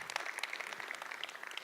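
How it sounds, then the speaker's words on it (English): An audience claps at an evening community speaker series event, a steady, dense patter of many hands that sounds somewhat distant and soft, with no voices over it. "Let's give him a round of applause"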